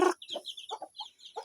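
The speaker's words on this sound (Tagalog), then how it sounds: "may ginabreeding ko nga mga manok" Chickens clucking softly in short bursts, with a few quick clucks spaced across a moment, fairly faint and close.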